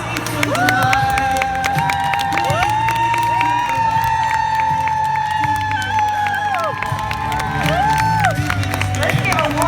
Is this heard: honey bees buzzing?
no